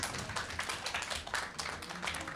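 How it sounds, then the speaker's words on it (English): A small audience at a youth event claps briefly for a young participant. The hand claps are quick, uneven and fairly close but quiet, with a faint voice underneath. "Applause to Jakub"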